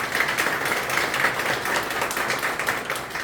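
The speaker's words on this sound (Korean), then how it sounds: "크게 박수 쳐줘서 정말 감사합니다" An audience in a broadcasting station chapel claps at a church press conference, producing a steady, fairly close wash of many hands applauding without a break and with no voices over it.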